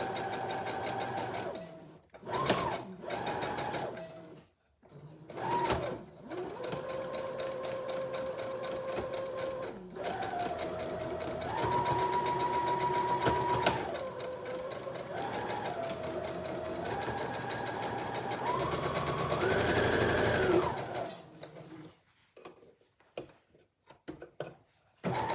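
Sewing machine running a straight, non-stretch stitch through stretchy fabric for a memory cushion, its motor whirring in bursts of varying speed, with short pauses and a long steady run near the end, close and loud with no talk.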